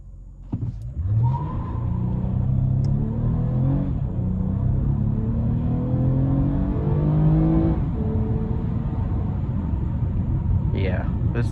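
A 2024 Toyota Camry XSE V6 in sport mode pulls hard from a stop, its engine note climbing through repeated upshifts in a smooth rising drone heard from inside the cabin, ending with a brief voice.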